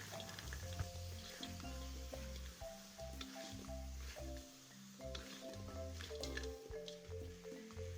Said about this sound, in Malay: Kita masukkan ketam dan gaul sekejap.